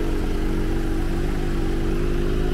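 A tricycle engine drones steadily and loudly at close range on a mountain trail, a continuous mid-pitched motor hum with no pauses and no talking.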